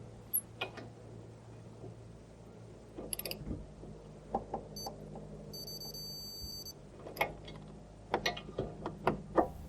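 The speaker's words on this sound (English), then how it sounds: "And now put in the bottom bolt and then torque them down to specification." Ratchet clicks come in short bursts as brake caliper bracket bolts are tightened on a 2014-2018 Toyota Corolla, separated by quiet gaps, with metallic clinks and a few faint beeps.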